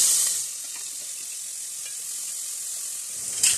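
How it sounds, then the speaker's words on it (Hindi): Chopped onions sautéing in three to four tablespoons of hot oil in a cooking pot, a steady close sizzle and crackle throughout with a brief louder burst near the end, no voices. "जो चॉप की हुई प्याज है इसको हल्का सा इसको इसमें सौते कर लेंगे।"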